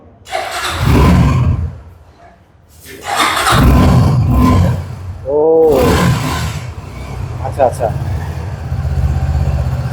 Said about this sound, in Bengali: আমরা একটু সাউন্ডটা শুনে নিই যে ইঞ্জিনের সাউন্ডটা কিরকম